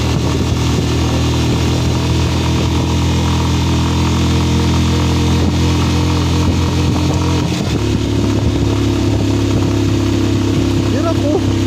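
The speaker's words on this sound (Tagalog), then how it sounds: "Hirap po yung motor ko." A motorcycle engine strains hard while climbing a steep uphill road on the Marilaque highway, a loud continuous drone close to the rider that shifts in pitch partway through.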